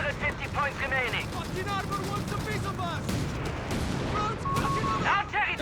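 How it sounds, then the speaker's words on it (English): Mines detonating amid battle noise in Company of Heroes 3, a Deutsches Afrikakorps versus British Forces match, with explosions and gunfire mixed under steady commentary talk. "Mines exploding here, messing up there the advance of Luckyman55 up north of the mine there."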